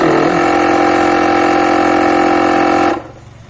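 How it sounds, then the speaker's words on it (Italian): An Amazon Basics portable digital air compressor runs with a loud, steady, buzzing motor drone full of harmonics, close to the microphone, then cuts off abruptly near the end, leaving quiet room noise. "accendo il compressore"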